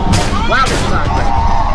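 Gunfire rings out in the horror video game Cry of Fear, loud booming shots layered over constant game noise and a voice talking.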